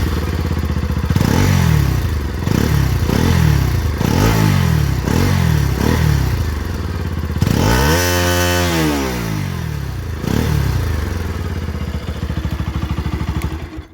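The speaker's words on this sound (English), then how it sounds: "Let me show you the exhaust note. This bike comes with an underbelly exhaust." Bajaj Pulsar NS 200 with an underbelly exhaust, started and blipped repeatedly at close range: a series of sharp throttle revs, then one long rev that winds up and falls back to idle, loud and alone.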